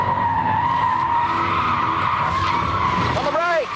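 Rotary-engined cars braking hard in the Sydney Harbour Tunnel, tyres skidding with a sustained loud squeal that sweeps and wavers over engine roar, ending in a sharp rising screech as the car stops; a voice is heard underneath.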